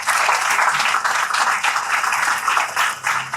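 An audience at a motivational talk on mental stress claps steadily, a dense, continuous round of applause from many hands filling the whole clip.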